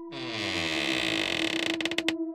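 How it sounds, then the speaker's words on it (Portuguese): A bedroom door swings open with a long, drawn-out creak, its pitch holding steady before ending in a few quick stuttering groans as the door stops, heard close and alone. "girei a maçaneta e abri a porta do quarto 7"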